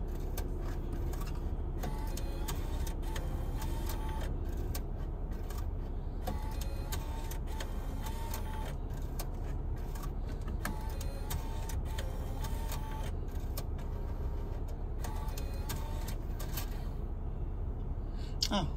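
A 2007 Mitsubishi Spyder's dashboard CD changer cycles through all six discs, giving repeated mechanical whirring and clicking in the cabin over a steady low hum, close and continuous throughout.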